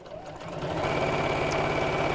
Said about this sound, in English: we're going to sew close to the edge all the way around